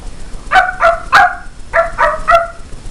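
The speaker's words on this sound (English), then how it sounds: "here is this sweet little dog" A small dog barking excitedly, two quick bursts of three sharp, high yappy barks close by and loud, with no talk.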